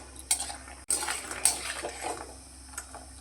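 Crispy bitter gourd leaf fritters lifted from a frying pan, giving a few sharp crackling clinks and scrapes at the start, then a softer rustling, close and fairly quiet with no talk.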